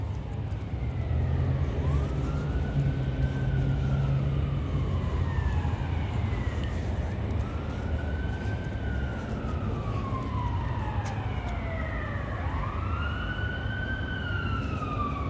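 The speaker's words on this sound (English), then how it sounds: "how does everybody feel about the fake sirens, like disturbing the peace on like a nice day?" A wailing siren rises and falls in repeated sweeping cycles, moderately distant, over steady low traffic rumble.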